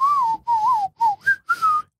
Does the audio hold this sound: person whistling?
yes